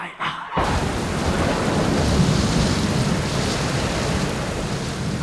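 Heavy rain pours steadily in a thunderstorm, a dense continuous hiss with deep rolling thunder rumbling underneath after a brief quieter opening.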